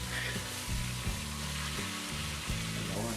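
Beef browns in a hot pan while being prepared for beef Wellington, giving a steady, close sizzle and frying hiss that runs unbroken through the whole stretch, with low pulsing rumble underneath and no talk.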